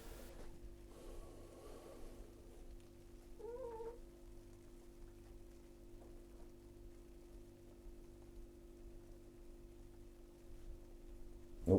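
A kitten gives a single short, faint meow against a quiet room with a steady low electrical hum and soft pattering in the background.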